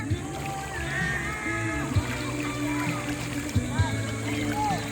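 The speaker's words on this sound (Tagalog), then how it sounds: "ako'y tumatawid dito sa running water" Wading through a running river stream at Kanyakan River in Norzagaray, Bulacan, with water rushing and splashing steadily, a few sharper sloshes, and voices calling out over it.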